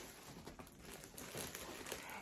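A plastic bag crinkles steadily as a pair of brown matte block-heel fall boots is pulled out of it, a soft close rustle running the whole time with no one speaking.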